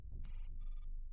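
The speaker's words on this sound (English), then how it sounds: "Dial tone." A single double-pulse electronic telephone ring from the video game Girls' Frontline, two short bright trills in quick succession over a soft low hum.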